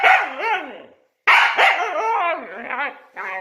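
A dog makes drawn-out, pitch-bending howls and yips that sound like talking, in two close, loud bursts separated by a brief pause.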